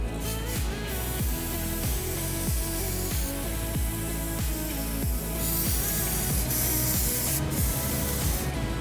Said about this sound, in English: Apply varnish if necessary.